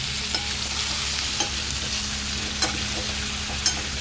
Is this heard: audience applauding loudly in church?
no